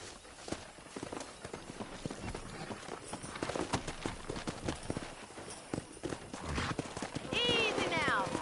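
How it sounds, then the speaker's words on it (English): Horse hooves clip-clop at a quick pace through busy activity in the video game Red Dead Redemption, and near the end a horse whinnies loudly, with voices talking over it. "That ranch hand said there's a pack of wild horses nearby."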